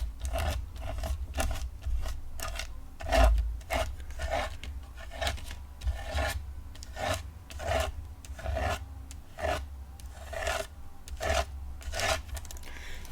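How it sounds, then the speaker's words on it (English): A palette knife rasps across a stencil in a quick, steady series of short scrapes, spreading snow paste for a papercraft snow effect, close and fairly quiet with no voices. "I'm just going to scrape that right onto the stencil"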